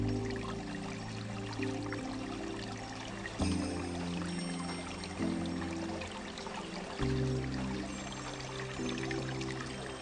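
Fresh spring water pours steadily into the top drinking basin of a kabata, a three-tiered household water basin system in Japan, giving a continuous close trickling flow with a few shifts in tone and no voices.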